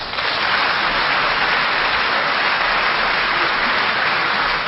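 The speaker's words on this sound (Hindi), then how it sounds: "जोरदार तालियां" A studio audience at a Hindi quiz-show comedy bursts into loud, dense applause that holds steady throughout, close and continuous, with no speech over it.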